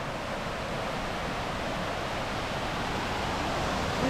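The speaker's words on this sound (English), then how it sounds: "So there's been a lot of rain and the waterfalls are pumping." Waterfall swollen after heavy rain, pouring steadily as a dense, continuous broadband rush that stays loud and even throughout, with no voices over it.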